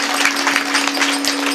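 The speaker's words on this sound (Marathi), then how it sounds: "माझ्या बहिणींसाठी मनापासून एकदा टाळ्या वाजवा" Audience applause for the accompanists at a Marathi kirtan performance, a steady patter of many hands clapping with a constant tone held underneath, lasting briefly.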